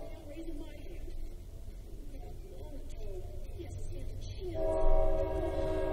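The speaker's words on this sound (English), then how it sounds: "Sorry guys, fuck you train. I can't hear shit." A train passes close by, a steady rumble running under the whole stretch, then a loud horn blast with bright layered tones rises near the end while a voice keeps talking over it.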